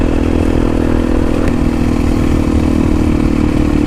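Honda Tornado motorcycle with a Belparts exhaust revving loudly and steadily while riding, a constant close, heavy engine roar with rattling clatter and no voices.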